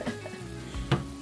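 Diced onion and garlic fry in a hot pan with a steady close sizzle, plus a brief stirring scrape near the end of the short stretch; no one speaks.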